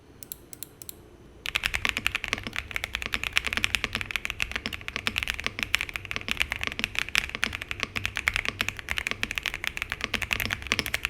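A stock MechLands Feker K75 mechanical keyboard is typed on at a brisk, steady pace, producing dense, crisp clacking keystrokes up close after a brief quiet start, with no talking.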